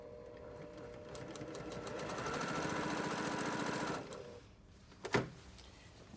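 A sewing machine runs a 1/4 inch seam along a quilt binding strip in a fast, steady mechanical rattle for about four seconds, then stops, followed by a couple of sharp clicks.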